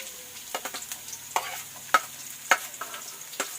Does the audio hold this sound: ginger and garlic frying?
yes